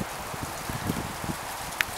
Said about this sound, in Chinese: 外面突然下起了，我们以为是雨，结果仔细一看，是一粒一粒的冰呢。